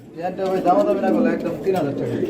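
Pigeons at a pigeon farm give soft, throaty, warbling coos in a short close burst, with a human voice mixed in alongside.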